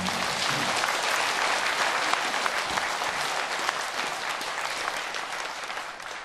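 A Buddhist congregation at a Sunday dharma service at Bongeunsa temple applauds the head monk: dense, sustained clapping from a large group that stays steady and loud throughout, with no talking over it.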